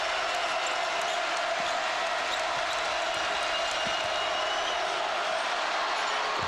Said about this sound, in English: Boy, is this crowd ever in it now